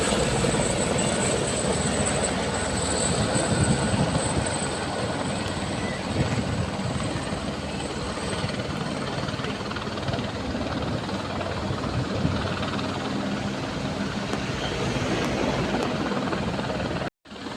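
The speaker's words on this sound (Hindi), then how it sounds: "अब ये उतरेगा हेलीपैड पे।" Helicopter coming down onto a helipad in Mana village, a steady broadband rotor and engine roar at moderate distance, continuous and unbroken until it cuts off abruptly near the end, with no voices.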